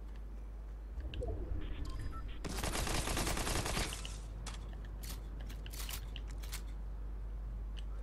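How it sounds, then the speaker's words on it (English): Close-range gunfire from a Fortnite match bursts out as a dense, loud volley lasting over a second, followed by scattered sharper shots and game noise at a lower level. "okay, that shooting is close"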